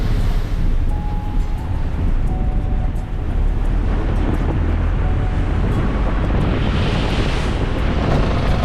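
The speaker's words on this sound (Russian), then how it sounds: "Вы видели, какие огромные волны вырываются прямо на набережную из океана." Huge ocean waves crash onto the Havana seafront embankment in a loud, continuous roar, with wind buffeting in through an open car window.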